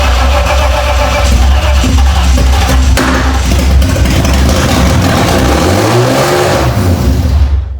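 A BMW E30 engine revving up through the rev range, close and very loud: a steady roar that climbs in pitch then falls back, without talk.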